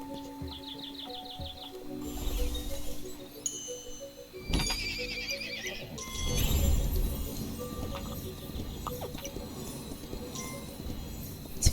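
A pony whinnies in the video game Kingdom Two Crowns, set against birdsong chirps and light game music, with no talking.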